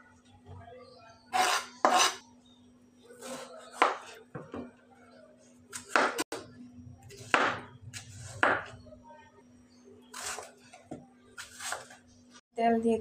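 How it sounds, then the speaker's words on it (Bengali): A knife slices through a cucumber on a board in a home kitchen, giving a series of sharp, irregular chops close by, separated by short pauses, with a faint steady hum underneath. "এখানে একটা শসা আমি কেটে নিব।"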